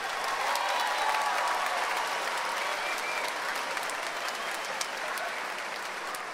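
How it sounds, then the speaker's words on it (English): An audience at a school house music competition applauds the students, a broad wash of steady clapping from many hands that holds level and fades slightly toward the end. "So let's applaud the students first."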